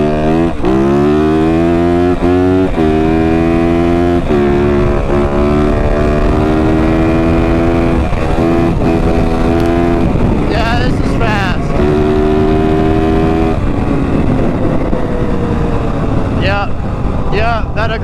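A 450 dirt bike on an aggressive competition ECU map accelerates hard through the gears: a loud, close engine note climbs in stepped rising revs, drops at each shift, then screams again, with wind noise buffeting the microphone.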